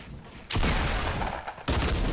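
Loud bursts of gunfire in the video game Fortnite during a match, a sustained volley followed by a short gap and then another burst, with no talking over it.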